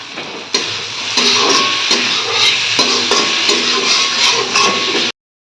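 Spice paste for a fish curry sizzles and fries steadily in hot oil, with regular stirring clicks of a spatula against the pan, close and loud, ending abruptly.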